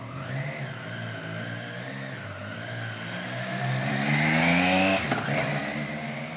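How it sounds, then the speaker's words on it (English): A brand-new Triumph Trident motorcycle engine runs close by with a steady mid-pitched hum, then revs up and climbs in pitch before settling back, with no talk over it. "Turn it on. First new bike. Oh, it sounds so good."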